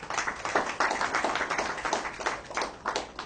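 An audience claps warmly for trained environment employees at a Haitian Ministry of Environment certificate ceremony; dense, steady applause holds at moderate level throughout.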